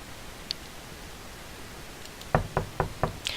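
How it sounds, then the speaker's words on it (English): A series of four sharp, evenly spaced knocks on a door, a visual novel sound effect, rings out clearly after a quiet stretch of faint background hiss. "Rosa knocked on Gilmay's door,"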